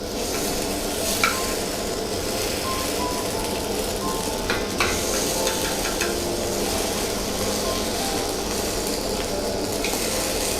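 Appe sizzle steadily in a pan over low heat, a constant frying hiss broken by a few light clicks and scrapes as a skewer turns them.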